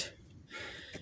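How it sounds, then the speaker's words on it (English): Heavy panting from a person recovering from the flu, close and breathy, with a sharp gasping intake near the start and another short breath near the end, outdoors in a garden. "Panting."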